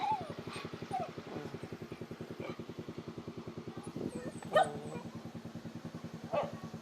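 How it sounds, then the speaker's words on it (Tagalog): Several dogs bark and yip over a steady engine rumble at a street food market in Binangonan, with people talking nearby. "Ang daming aso."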